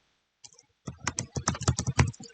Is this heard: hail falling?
no